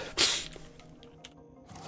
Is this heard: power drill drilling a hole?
no